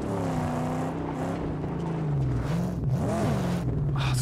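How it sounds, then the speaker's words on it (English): Car engine in the Mad Max video game, a loud steady throaty drone that rises and falls in pitch as the vehicle revs and shifts, continuous throughout with no talk. "Oh, this car is so baller sounding."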